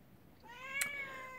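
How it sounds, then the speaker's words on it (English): A house cat gives a single drawn-out meow indoors in a snowed-in cabin, fairly close and clear over a quiet background. "Crazy kitty."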